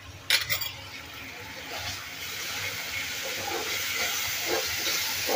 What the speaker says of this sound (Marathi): अद्रक लसणाचा कच्चा वास जाईपर्यंत आपल्याला हे परतून घ्यायचं आहे थोडं मऊ होईपर्यंत